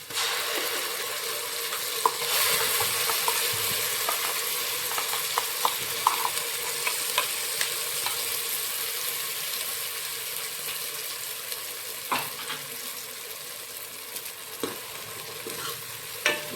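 Ground masala with onion, mustard seeds and cumin frying in oil, a steady close sizzle with scattered crackles and occasional stirring scrapes, no voices.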